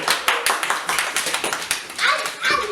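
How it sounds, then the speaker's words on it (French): Audience at a hypnosis show applauding the karate master, a burst of uneven hand claps close by that thins out toward the end, with some voices mixed in. "Donc on peut l'applaudir quand même, hein, le maître de karaté."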